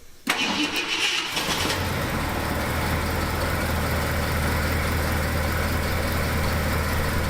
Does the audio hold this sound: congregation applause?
no